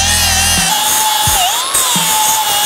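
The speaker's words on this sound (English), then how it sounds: "I'm gonna grind this weld out" A power grinder grinds out a steel weld with a loud, steady high whine that holds throughout, dipping briefly in pitch as the disc bites the metal.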